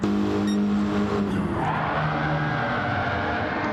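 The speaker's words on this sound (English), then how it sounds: "cruising around in that deep-throated V8 Aston Martin" A deep-throated V8 Aston Martin runs on a race track with a steady, loud engine drone whose pitch sweeps and shifts, and faint tyre noise sits underneath.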